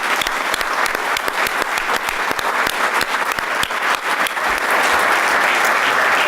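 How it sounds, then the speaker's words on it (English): A ceremony audience at an athlete-of-the-year event applauds an athlete's family, loud and dense clapping from a large crowd that carries on steadily for several seconds, close and continuous, with no speech over it. "Why don't your family please stand up for us so we can give them a round of applause?"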